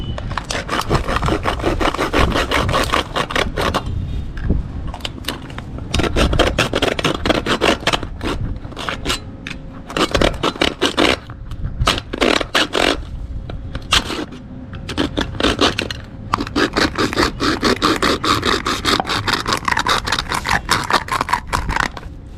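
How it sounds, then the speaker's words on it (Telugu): A hand saw rasps through wood in quick, regular back-and-forth strokes, loud and close, continuing with brief pauses throughout. "రంపంతో కొయ్యగానే తెగిపోయింది చూడండి"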